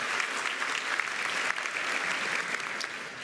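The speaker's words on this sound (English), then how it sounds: "How about a round of applause for all the parents, all the family members who are here today." An audience of parents and family members applauds at the University of Maryland Latinx graduation celebration, a dense sustained patter of many hands clapping at an even level.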